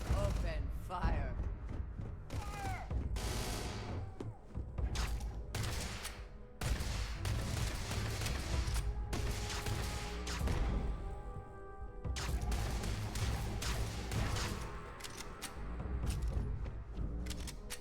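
Rapid bursts of gunfire and impacts in the space RPG Starfield during a firefight on a stealth mission, loud and repeated through the clip, with game voices over the shooting.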